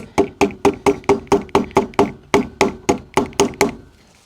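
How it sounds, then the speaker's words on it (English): A socket is tapped with a hammer to drive a pulley onto a motor shaft on a Vevor 8x14 inch 2250rpm 650w lathe: about fourteen evenly spaced, loud, close metallic knocks in steady rhythm. "give the pulley a couple taps just to get it in about halfway"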